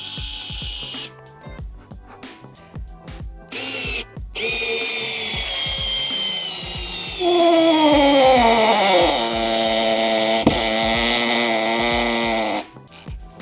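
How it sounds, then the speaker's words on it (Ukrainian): Cordless Leader screwdriver drives a screw into the edge of dense, not fully dried timber, its motor whining in several straining bursts with a rising, labored pitch and ratcheting clicks, close and loud. "ставимо і намагаємось закрутити"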